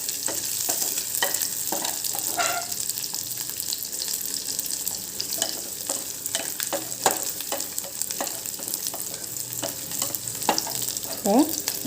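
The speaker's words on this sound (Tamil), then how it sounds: "பூண்டையும் போட்டு நம்ம நல்லா வதக்கணும்." Garlic sautéing in a pan for seru kiraai dal, a continuous close sizzle with scattered stirring clicks and scrapes, no voices.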